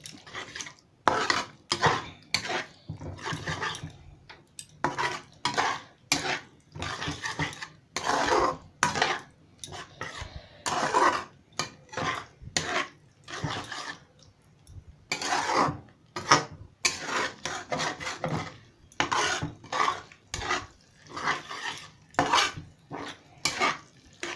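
Stuffed pointed gourd (patoler dorma) is sautéed and stirred in a pan. The stirring comes in repeated rhythmic bursts of metal scraping and clinking against the pan, with short pauses between strokes and a faint sizzle underneath.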